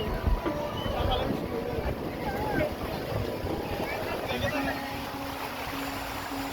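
A speedboat rides the rough monsoon sea off Patenga beach, with a steady roar of engine, wind and slapping waves throughout, loud and continuous.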